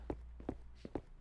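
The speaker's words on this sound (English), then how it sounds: "I still hear footsteps" Footsteps of another character in a horror game: four distinct, evenly spaced steps about four-tenths of a second apart, soft and somewhat distant, with no voices over them.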